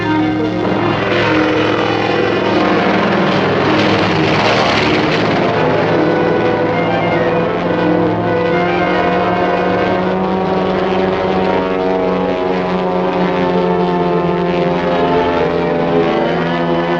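Propeller aircraft engine droning steadily and loudly throughout as the plane climbs for altitude, a continuous rumbling hum with layered harmonics and no speech, in a 1945 serial.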